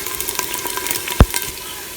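Onions sautéing in a pan sizzle steadily at close range, with soft stirring scrapes and one sharp clack midway; no one speaks.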